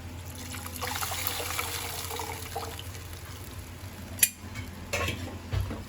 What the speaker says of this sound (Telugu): సో ఇంకొన్ని నీళ్ళు పోసుకుని యాడ్ చేసుకుందాం.